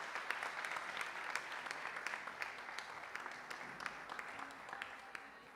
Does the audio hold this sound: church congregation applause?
yes